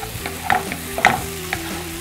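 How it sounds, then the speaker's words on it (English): Caramelized turnip and squash stirred in a hot pan in a restaurant kitchen: a spoon scrapes and clinks against the pan in a few quick strokes over a steady soft sizzle. "I'm mixing all of this thick caramelization into the turnip and squash"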